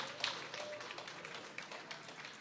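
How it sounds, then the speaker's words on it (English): Audience applause at a ceremony celebrating the opening of an LIRR terminal, a faint, distant, steady patter of many clapping hands with no talk over it. "So let's give a round of applause to the man who made it happen"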